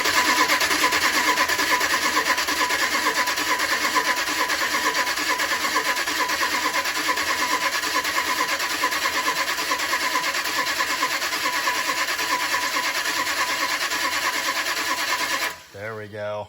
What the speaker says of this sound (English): here's the first crank of the engine with new rockers and push rods